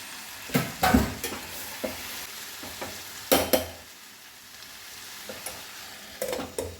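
Chickpeas stirred into a simmering chole masala curry in a pan, with a few loud scraping stir strokes and a soft sizzle of frying between them, close by and with no talk.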